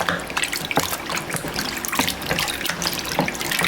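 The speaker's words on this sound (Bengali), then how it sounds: "এখন ধুয়ে নিচ্ছি পানি দিয়ে" Salted country chicken being rinsed under running tap water in a kitchen sink. Close splashing and trickling sounds with irregular bursts of water as the meat is handled.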